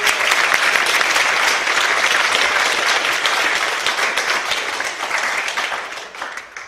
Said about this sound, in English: Let's give those people a round of applause.